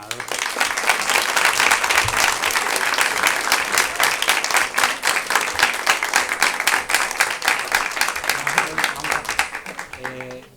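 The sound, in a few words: audience applause for award winner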